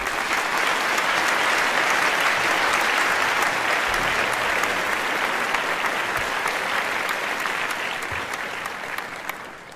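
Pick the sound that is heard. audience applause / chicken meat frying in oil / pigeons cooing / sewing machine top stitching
audience applause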